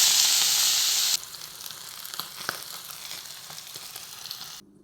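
Paneer frying in oil in a pan, a loud steady sizzle and hiss for the first second that drops to a softer, crackling fry with scattered pops before cutting out.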